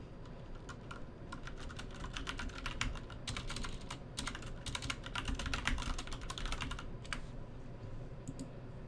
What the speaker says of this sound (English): I'm typing in chat just to be like, you know, they don't have any people typing in chat